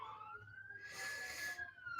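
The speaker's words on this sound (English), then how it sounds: "You guys hear the sirens, right?" Police car siren wailing outside, faint and distant, rising and falling in a smooth sweeping tone that swells briefly as it passes before fading again.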